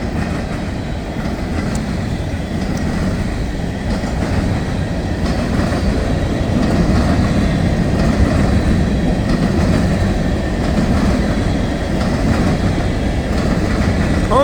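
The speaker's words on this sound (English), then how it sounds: "So now this is all hoppers, another unit train." A long freight unit train made up entirely of hopper cars rolls past nearby, a loud, continuous rumble with steady clickety-clack from the wheels and no voices over it.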